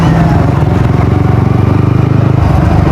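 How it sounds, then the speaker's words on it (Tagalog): Motorcycle ridden through evening street traffic in Baclaran, a loud, close, steady engine drone with rhythmic pulsing throughout and no voices. "Hindi ko ma-adjust kasi nagmo-motor tayo"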